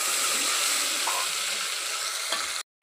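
Curry leaves dropped into hot oil in a home kitchen, giving a loud, close, continuous sizzle and crackle that cuts off abruptly near the end.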